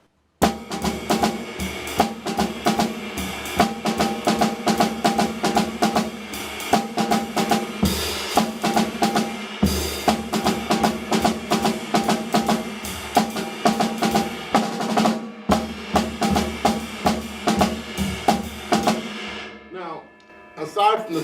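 Drum kit playing through a jazz lead sheet in a master class, a busy run of dense, loud hits and cymbal wash, stopping briefly a few times before breaking off near the end.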